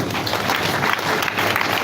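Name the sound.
audience applause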